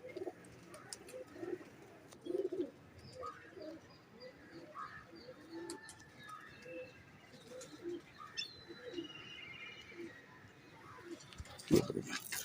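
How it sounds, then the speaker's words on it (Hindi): Salary Teddy pigeons, a pair including a male held in the hand, coo in soft low bursts throughout, with occasional chirps and a brief wing flutter near the end, while someone talks over them. "ये सलारे टैडी कबूतर है भाई के।"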